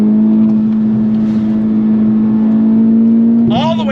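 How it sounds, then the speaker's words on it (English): A modified Honda Civic Type R FK8 pulls hard in third gear, its engine note a loud, steady close-up drone that climbs sharply in pitch at the end as revs rise. "Let's do a third gear roll on. You ready? On throttle, here we go."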